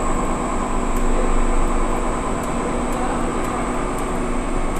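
A rexine factory machine mixing material gives a steady, loud mechanical drone with a constant hum, and faint ticking recurs at regular intervals, unbroken and without voices.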